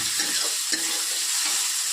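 Spice masala with tomato, salt and four or five slit green chilies sautéing in a pan: a bright, continuous sizzle with soft stirring scrapes, close and steady, no talking.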